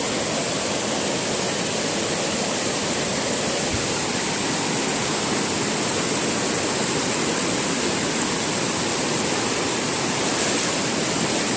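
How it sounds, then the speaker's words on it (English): Steady, full rush of a mountain stream flowing along the Appalachian Trail, close and continuous with no voices, a broad even wash of water. "the water's coming from up there. Just a beautiful stream."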